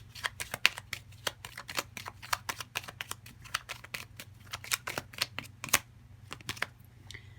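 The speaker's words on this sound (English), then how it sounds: "let's see if we can get 3 cards here" Tarot cards shuffled by hand, a quick irregular run of crisp riffling slaps and flicks, close and fairly quiet, over a faint low hum.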